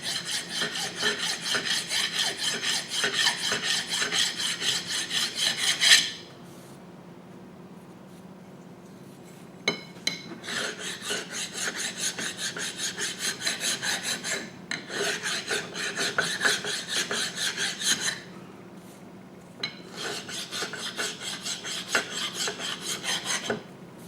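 A hand file rasps a burr off a metal part in close, scratchy strokes, arriving in several long bursts separated by short quiet pauses.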